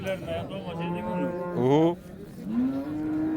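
A cow with her calf at a livestock market in Olot, Bukhara, moos nearby in a couple of long, drawn-out lowing calls, rising and falling in pitch, with faint background noise.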